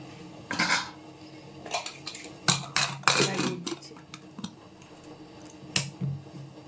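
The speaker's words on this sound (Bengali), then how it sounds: "প্রেসার কুকারটা বসিয়ে দিলাম" Metal pots and utensils clank and knock in a home kitchen as a pressure cooker holding chicken curry is set onto the stove, with several sharp, close clatters spread irregularly over a few seconds, no voices.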